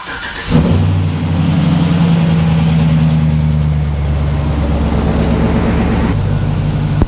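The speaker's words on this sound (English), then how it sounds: "It's got an aftermarket exhaust sound apparently, and it's got a good rumble to it." A 2005 Chevrolet Silverado with an aftermarket exhaust starts up and settles into a loud, steady idle, a deep rumbling drone close by that holds evenly for several seconds.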